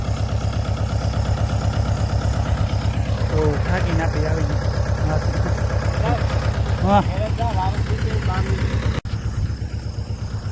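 A tractor engine idles steadily close by with a continuous low chugging throb, while people talk over it.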